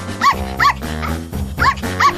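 A cartoon dog barks five times in a steady, evenly spaced rhythm, each bark loud, bright and close, with a cartoon soundtrack humming underneath and no talking.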